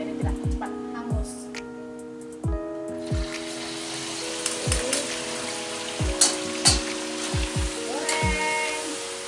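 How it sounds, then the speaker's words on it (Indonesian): Peanuts fry in hot oil for a spiced Indonesian kacang tojin snack, giving a steady crackling sizzle broken by sharp clinks and pops, with no talking. "Nah, kacang ini langsung kita goreng, tidak kita tunggu dingin ya. Menggunakan minyak yang panas"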